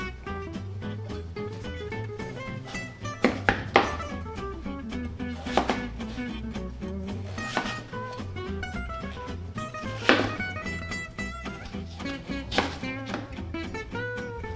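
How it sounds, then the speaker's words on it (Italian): Pumpkin being cut into small pieces with a knife on a board for a Halloween pumpkin and chocolate cake, irregular sharp chops spaced a second or two apart under steady background music. "come prima cosa andiamo a tagliare la nostra zucca a pezzetti"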